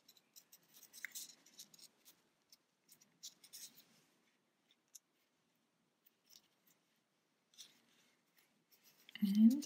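Small scissors snip crochet yarn on an amigurumi wren, a scatter of faint, close, dry clicks and snips spread over the quiet, ending with a brief louder rustle.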